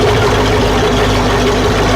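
A boat engine idles just after being started, giving a steady, loud low rumble with an even mechanical drone and no breaks.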